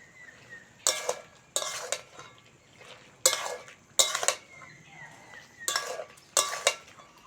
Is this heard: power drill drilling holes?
no